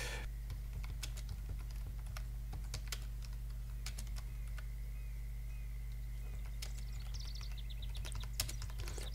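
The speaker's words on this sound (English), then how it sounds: "I'm typing." Someone types on a computer keyboard during a fishing game session. Scattered, quick key clicks sit close over a steady low electronic hum, with no talk.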